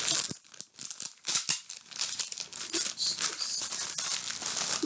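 Close, crisp crinkling and tearing of packaging in irregular bursts, with plastic rustling and crackling steadily throughout.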